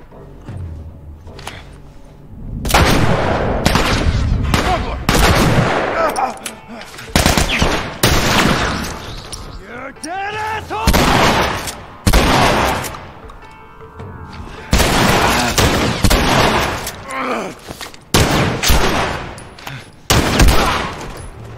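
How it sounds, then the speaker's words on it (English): Assault rifle gunfire rings out in The Last of Us video game. Loud, close bursts of automatic fire come in repeated volleys with short gaps between them, and thuds and ringing echoes sit between the shots. "Assault rifle."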